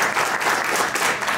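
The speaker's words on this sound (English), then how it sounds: "If you can hear me, clap six times." A dense wash of applause from a crowd, steady and continuous without distinct individual claps.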